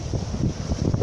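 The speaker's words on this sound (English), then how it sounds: "22 knots of wind" Strong 22-knot wind buffets the microphone aboard a sailboat running dead downwind under wind-pilot steering on a passage toward Oslo, a steady low rumbling roar with gusty surges and no talk.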